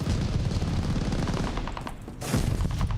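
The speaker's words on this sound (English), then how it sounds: "these incendiary bullets and stuff that these guys using is annoying" Rapid automatic gunfire firing incendiary rounds in a shooter video game, dense continuous bursts with a brief pause before another loud volley.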